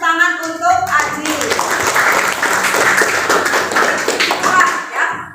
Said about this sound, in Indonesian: Tepuk tangan untuk Aji.